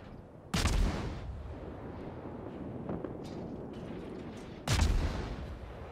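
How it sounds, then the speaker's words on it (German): A World of Warships warship fires armour-piercing shells in two heavy, booming salvos a few seconds apart, each a deep roaring blast that rumbles away, with low background noise between. "Und er schießt jetzt mal ein bisschen mit AP darauf."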